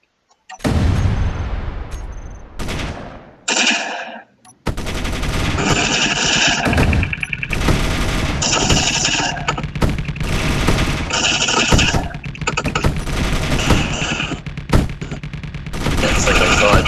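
Frigate guns and rockets fire nonstop during a frigate-versus-frigate space battle in the video game Space Engineers, with loud, dense bursts of rapid machine-gun fire and booming impacts after a brief pause, while voices talk over the combat.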